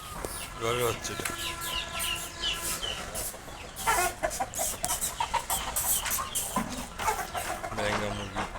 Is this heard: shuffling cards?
no